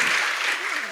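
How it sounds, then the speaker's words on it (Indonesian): An audience at a talk gives a short burst of applause, a dense crackle of many clapping hands lasting under a second, with no break in the sound. "Luar biasa, boleh tepuk tangannya."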